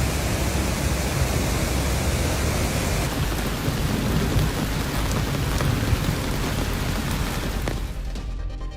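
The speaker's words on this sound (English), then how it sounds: "This heavy rain, part of the series of intense storms, poured a record amount of rainfall" Heavy, steady rain pours during an intense storm with thunder rumbling beneath, a dense, loud roar that runs unbroken before fading slightly at the end.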